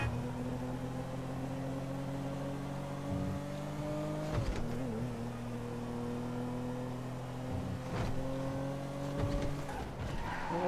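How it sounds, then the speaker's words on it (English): Car engine in GTA Online accelerating, a faint steady mid-pitched drone that shifts in pitch with occasional sharp knocks and thumps, no talk. "Oh, this car's going fast."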